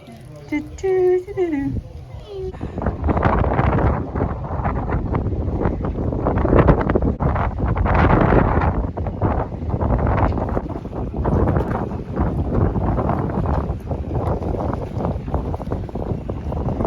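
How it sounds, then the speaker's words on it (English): Strong wind in England buffets the microphone in a constant heavy roar with gusty surges, preceded by a brief voice at the start. "very windy"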